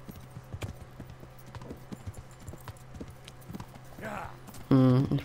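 Horse hooves clip-clopping on a path while riding in Kingdom Come Deliverance, a steady uneven patter of hoofbeats under someone speaking German, with a brief louder burst near the end.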